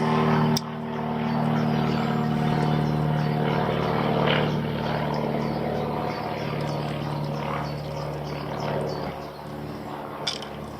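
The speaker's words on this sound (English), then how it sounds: "when the plane's gone over." A propeller aircraft drones steadily overhead with a sustained low hum that slowly fades, recorded outdoors by the sea during a crab catch-and-cook, with a sharp click near the start and another near the end.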